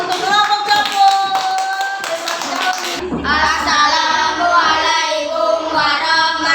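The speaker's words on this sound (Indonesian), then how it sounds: "Beri tepuk tangan untuk kelompok Sapung." Applause from a class of children for a group's poster presentation, a dense patter of many hands clapping close by with a short break partway through, young voices faintly mixed in.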